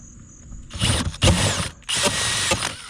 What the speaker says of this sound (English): so I can drill my first hole.